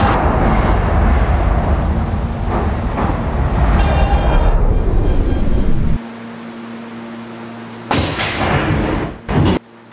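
An R160B Siemens subway train on the BMT Broadway Line, simulated in a Roblox game, runs with a loud rumbling roar and thumps, then drops to a quieter hum before brief bursts of noise.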